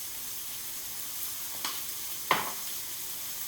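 Chicken pieces roast in a hot pan for chicken cacciatore, giving a steady close sizzle broken by two brief scrapes of stirring, with no voices.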